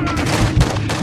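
Rapid gunfire bursts from the video game Call of Duty MW2 DMZ, loud and close, several quick volleys crowding the second with no voices over them.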